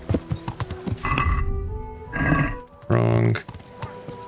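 A horse in the Kingdom Come Deliverance video game snorts and whinnies loudly amid clopping hoof sounds, with someone talking over parts of it.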